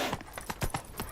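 A horse trots in the open-world game The Witcher 3, its hooves giving about eight steady, evenly spaced clip-clops, moderately close and fairly quiet, with no talking.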